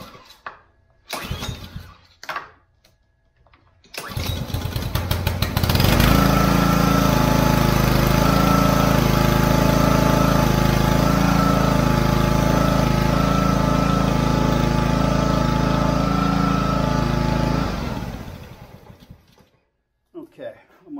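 A Troy Bilt log splitter's small gas engine is pull-started. A few short rope-pull bursts catch into a loud, steady running drone that holds for about twelve seconds and then winds down to silence.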